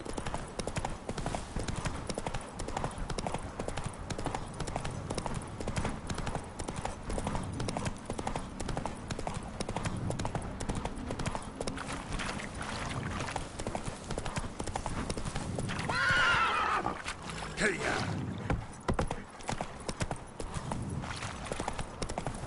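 Roach the horse in The Witcher 3 gallops with a rapid, continuous clip-clop of hooves throughout, with a brief whinny-like cry partway through and some game sounds and voice in the background.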